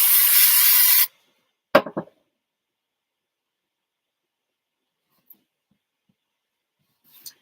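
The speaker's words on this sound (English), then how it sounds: "I'm going to spray that as well because I can today" An aerosol spray can hisses in a steady burst for about a second during card making, followed by a few faint clicks and taps and then quiet.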